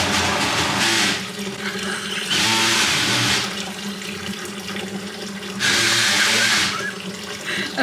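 Tap water gushes into a bucket for cleaning before borax is added, in three loud bursts of splashing flow with quieter running water between them, no talk.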